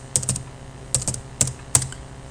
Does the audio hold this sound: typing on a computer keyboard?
yes